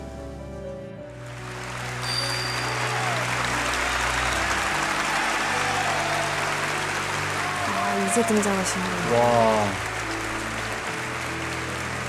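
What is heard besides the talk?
standing ovation applause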